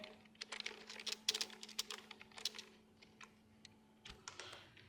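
Computer keyboard typing HTML code, a quick irregular run of crisp key clicks with short pauses, steady and close, no voices, over a faint low electrical hum.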